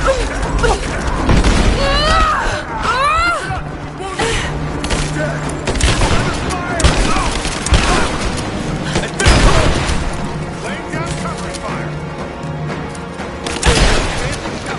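Heavy gunfire and explosions from the video game Rise of the Tomb Raider, with dense bursts of shots and booms running throughout amid shouted in-game voices.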